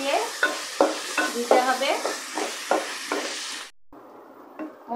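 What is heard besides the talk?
stirring potatoes with ginger paste in a pan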